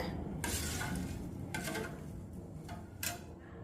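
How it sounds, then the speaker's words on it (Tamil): A spoon stirs turmeric and salt into horse gram rasam in a metal pot in a few distinct bursts, with faint clinks between strokes against a low kitchen background. "சேர்த்துட்டு நல்லா மிக்ஸ் பண்ணி விட்டுக்குங்க"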